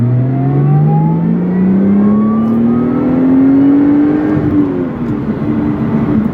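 A Lotus Evora S engine revs under acceleration from inside the cabin, its loud, smooth tone climbing steadily in pitch, then easing off and dropping slightly near the end.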